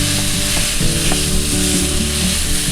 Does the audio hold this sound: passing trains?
no